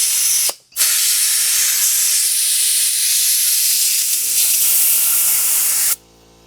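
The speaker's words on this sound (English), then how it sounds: "I don't think my air compressor is going to have enough blasting power to air this up" An air compressor blasts air into a tire mounted on a Harbor Freight mini tire changer, a loud continuous hiss that cuts out briefly near the start, resumes steadily with a faint humming tone joining later, then stops abruptly.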